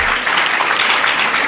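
Audience clapping at a religious discourse in a hall, a steady dense patter of many hands heard alone for a moment.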